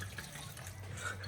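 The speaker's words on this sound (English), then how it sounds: "I'm just going to add a little splash of wine." A small splash of wine poured into a seafood pasta sauce, a brief faint liquid trickle in a quiet kitchen.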